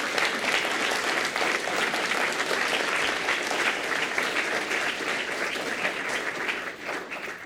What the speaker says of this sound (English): This deserves very much a round of applause.